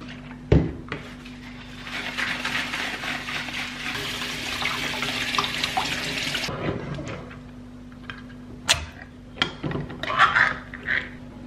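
Tap water runs into a kitchen sink as beans are rinsed, a steady splashing stream for several seconds, followed by clinks, knocks and short bursts of water handling.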